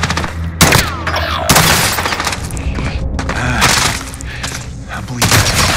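Dense bursts of gunfire rattle through a Call of Duty Warzone match on Rebirth Island, with rapid automatic volleys, sharp single shots and a few heavy booms layered over a loud, continuous battlefield din.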